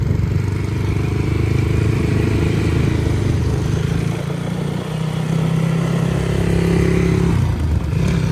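Motorcycle engine running loud and close as the rider sets off, a steady throaty drone with a slight rise in revs near the end, alone without talk.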